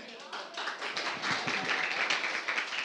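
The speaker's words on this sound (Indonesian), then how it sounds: "tepuk tangan semuanya." Church congregation clapping hands together in a dense, steady patter of many palms, moderately loud and close, with no voices over it.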